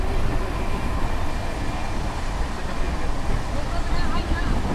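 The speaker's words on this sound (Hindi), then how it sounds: "नागपुर अमृतसर AC आने वाली है सामने से।" Train number 22125, the Nagpur–Amritsar AC Superfast Express, approaches an Indian railway station, a steady broadband rumble of wheels and rolling stock holding throughout at close range with no breaks.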